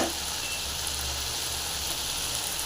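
Kuppaimeni herb frying in a hot pan, a steady broadband sizzle with a soft hiss throughout, close and fairly even, with no talking.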